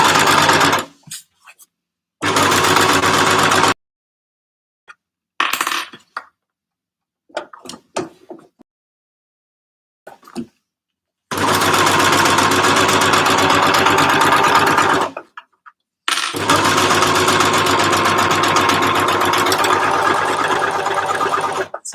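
An overlocker sews a seam on a waterproof drawstring bag, its motor running in loud, steady bursts of several seconds each, separated by silences and soft clicks of fabric handling.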